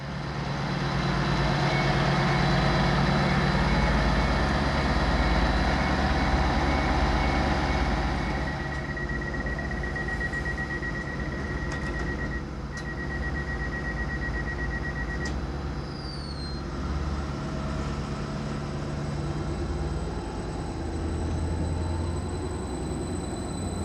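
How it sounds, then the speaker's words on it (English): A Greater Anglia train passes through a station, with a loud sustained rumble and engine drone that slowly eases, plus a steady tone and a brief high whine partway through. "some bonus footage of a Greater Anglia train passing through"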